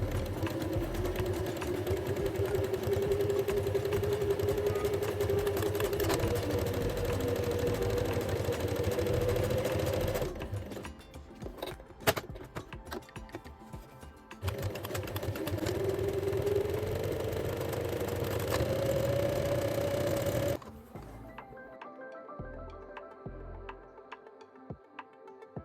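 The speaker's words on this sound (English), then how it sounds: "We recommend using a sewing machine with a buttonhole foot, stitching each buttonhole twice for a clean," A sewing machine stitches buttonholes on a dress in two long runs of steady, fast, humming motor chatter. A pause with clicks and handling noise separates them, and it falls quiet at the end.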